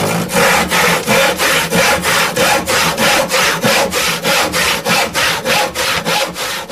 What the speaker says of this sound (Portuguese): Agora vamos serrar o lado esquerdo.